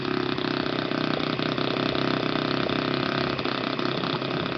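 An Enya 53 4C model four-stroke engine idles steadily on a test run, a loud continuous buzzing drone with a fast, even firing rhythm and no voices.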